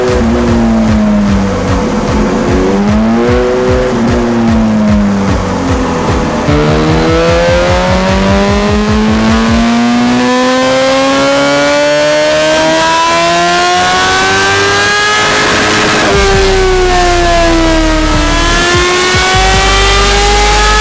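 A Kawasaki ZH2 motorcycle on a dyno revs hard and loud, its engine pitch sweeping up and down through repeated runs with brief drops between pulls.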